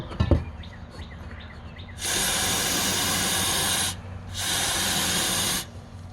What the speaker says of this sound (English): spray anything into these holes